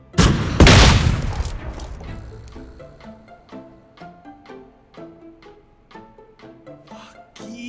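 World War II weapons fire in PUBG Mobile: a loud, close burst of gunfire at the start, then fainter, lighter clattering and tonal game sounds with no talking.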